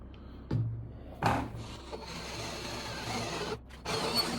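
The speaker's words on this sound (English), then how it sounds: "ream that and make sure that hole's straight in line and of the right size" A hand reamer cutting through newly fitted bushings on an early VW link pin gives a steady, close grinding rasp, with a couple of sharp knocks near the start and a short pause before it resumes.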